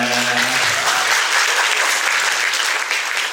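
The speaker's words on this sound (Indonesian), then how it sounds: "Saya dengar suara tepuk tangannya Bapak Ibu semuanya." Loud, dense applause from a large event audience, many hands clapping close and continuously, with a voice briefly audible at the start.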